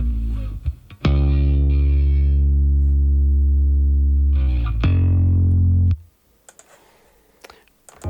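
Two deep, sustained notes from a Rickenbacker 4001 bass neck pickup ring out loud and thick with effects, each held for seconds, followed by quiet clicks and handling noise.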